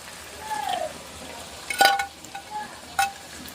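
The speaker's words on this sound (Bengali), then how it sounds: "আমরা ভেজে রাখা আলুগুলো এর মধ্যে দিয়ে দেবো।" Fried potatoes are dropped into a pan of chicken curry and stirred, giving soft, close clinks and scrapes of a utensil, a couple of sharper knocks, and a faint wet sizzle underneath.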